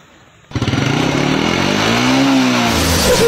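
A Yamaha Jupiter motorcycle engine kicks in abruptly and revs hard, a loud, close, buzzing roar that climbs steadily in pitch and holds.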